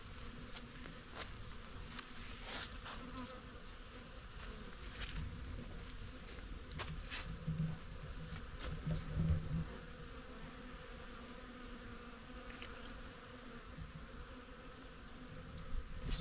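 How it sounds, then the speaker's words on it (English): Bees swarm around flowering corn pollen in a summer garden, a steady, dense buzzing that runs throughout at moderate distance, with occasional louder passes of single insects close by and no voices. "the pollen is being produced, and this is just loaded with bees right now"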